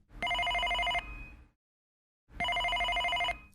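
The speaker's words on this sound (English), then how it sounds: "She was interrupted by the phone." A telephone bell rings in two loud, clear bursts, each about a second long with a trilling warble, separated by a short silence in a quiet room.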